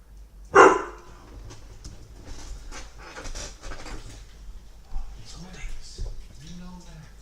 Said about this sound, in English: Why are you barking at Max?